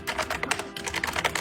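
Rapid, continuous keystrokes on a computer keyboard, close and clear, with an irregular clatter of key presses and no voices.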